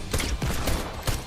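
Rapid bursts of hand cannon fire from a video game, several close, loud shots in quick succession with no talking.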